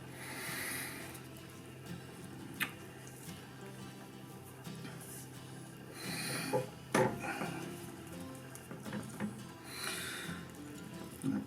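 Garlic cloves are pushed by hand into a Greek-style leg of lamb, giving soft rubbing, squelching and light scraping sounds with occasional knocks against a dish, fairly quiet and close.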